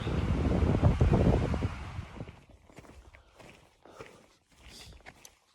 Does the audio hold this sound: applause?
no